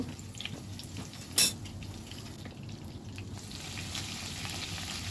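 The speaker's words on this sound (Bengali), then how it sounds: "এখন আমি একটু পেঁয়াজটা হালকা করে ভেজে নেব।" Onion frying lightly in a pan after whole spices have been tempered in oil, a soft steady sizzle close by with one sharp metallic clink partway through.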